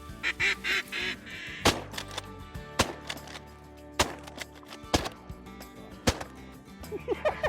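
Ducks quack repeatedly during a late-season duck hunt, a run of nasal calls mixed with several loud sharp bangs spaced a second or so apart outdoors.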